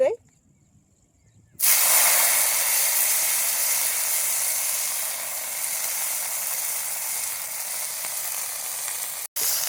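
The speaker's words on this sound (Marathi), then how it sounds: "आपण आता भाजी टाकू कढई चांगली गरम झाली तेल चांगलं गरम होऊन आहे" After a quiet second or two, a loud sudden sizzle erupts as vegetables hit hot oil, hissing steadily and strongly until a brief cut near the end.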